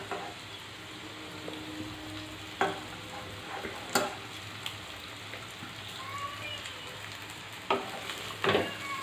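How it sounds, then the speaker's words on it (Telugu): Cooked rice being stirred and fried in a pan for Telugu-style egg fried rice: a close, steady sizzle with several sharp scraping and stirring knocks of a spatula against the pan, no talk. "ఇది వేగింది తర్వాత మనం ఉడికించి పక్కన పెట్టుకున్న రైస్ ఇందులో వేసేయాలి"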